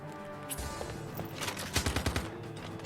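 A quick burst of about five sharp gunshots in the video game Crisis Core: Final Fantasy VII Reunion, fairly quiet, rising out of a soft game background near the middle.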